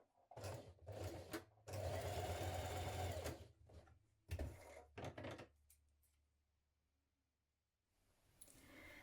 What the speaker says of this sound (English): So with right sides facing, line it up, and let's stitch that in place.